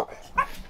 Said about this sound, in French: Il aboie.